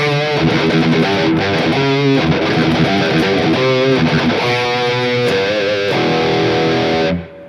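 A distorted electric guitar plays a melodic riff through the reverb effect of a Neural DSP Quad Cortex, notes ringing and trailing off, ending with a fading tail.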